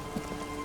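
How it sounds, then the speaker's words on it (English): Rain in the video game Disco Elysium, a steady, soft hiss of falling rain with a faint low rumble beneath, brief and unbroken, with no voices. "It's getting late, and it's raining."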